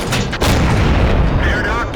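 A heavy tank gun fires in a tank battle video game, a loud booming blast near the start that rolls into a rumbling tail, with a commentator speaking underneath.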